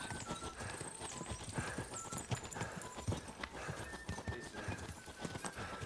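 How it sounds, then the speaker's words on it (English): Horse hooves clip-clopping at a riding gait in the video game Kingdom Come: Deliverance II, a quick continuous patter of steps with a horse neighing over it and faint game sounds behind, no speech. "Horse riding is tough."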